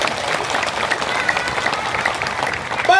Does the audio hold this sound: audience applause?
yes